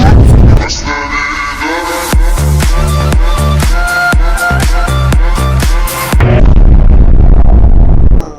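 Roblox game explosions and gunfire-like bangs burst in a rapid, loud series, then settle into a roaring rumble; no talk over it.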